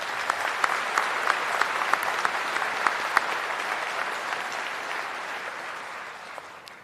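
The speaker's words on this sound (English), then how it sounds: "Please give her a round of applause" Commencement audience at a university health sciences graduation applauding an award recipient, a loud, sustained crowd clapping with sharp individual claps standing out, slowly tapering toward the end.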